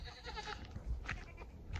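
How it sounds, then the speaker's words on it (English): Goats bleat in the background on a Western Sierra Nevada foothills property, a few short, moderately distant calls over outdoor ambience. "We got goats in the background right there."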